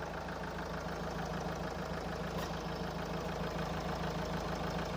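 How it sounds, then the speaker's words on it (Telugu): A 2015 Mahindra XUV500 W8 engine idles steadily and quietly, with an even low rumble and no other sounds. "బండి బాగానే ఉంది. ఇంజిన్ బాగానే ఉంది. సౌండ్ కూడా చాలా తక్కువే ఉంది."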